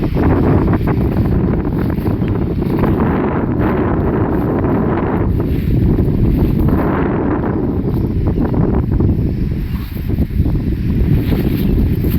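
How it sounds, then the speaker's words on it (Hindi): Strong wind roars across a soybean field near harvest time, a loud, continuous rumble buffeting the microphone throughout, with no voices. "और हवाएं काफ़ी तेज़ है बिल्कुल"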